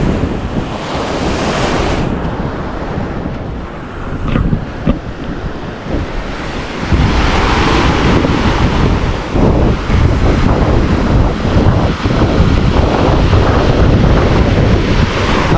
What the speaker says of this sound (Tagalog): Kaya malakas tong alon ngayon